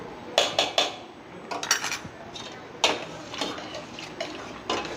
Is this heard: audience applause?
no